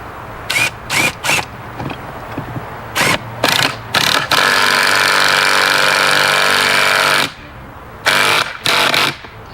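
A hammer drill bores into wood during an AR-15 wall mount installation, running in several short loud bursts, then one long sustained run of about three seconds, then two more brief bursts, close up with no talking.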